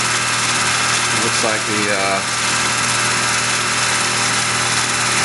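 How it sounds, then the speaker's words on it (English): A Tormach PCNC 1100 CNC lathe makes a light first turning pass, a steady mechanical whirr with a constant hum. A voice speaks briefly over it partway through. "Here we go for the first turning pass."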